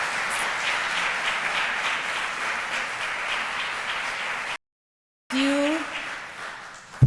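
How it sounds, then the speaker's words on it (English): A lecture audience applauds warmly, a dense steady clatter of many hands clapping close up for several seconds, then a break and a short burst of clapping again with a voice briefly heard. "shall we do another clap for him"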